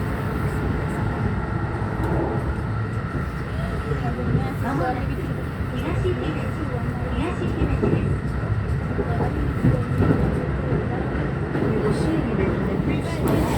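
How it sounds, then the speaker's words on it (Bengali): A continuous rumble and rattle from inside a metro train moving through Japan, steady and fairly loud, with voices talking over it. "ট্রেন করে যাচ্ছি যার জন্য আমাদের সময় লাগবে দুই মিনিট"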